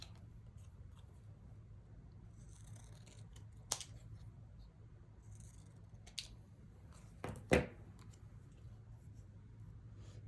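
Scissors trimming paper in a quiet room, a few scattered snips and crisp cuts with soft rustling of the sheet between them, close and fairly faint.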